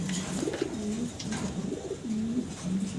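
Fancy pigeons, including a blue magpie pouter, coo in soft repeated rising-and-falling phrases, close by over a faint background hum.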